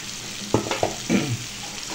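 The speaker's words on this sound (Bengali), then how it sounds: "আবার পুনরায় মিক্সড করে দেবো।" Mixed vegetables and fried potatoes are stirred together in a frying pan, giving a few distinct scraping, clattering stirs over a soft sizzle, close and moderately loud.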